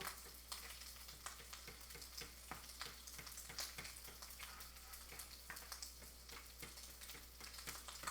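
Quiet, continuous sizzling and crackling of bacon frying in a pan, with scattered small pops over a low steady hum.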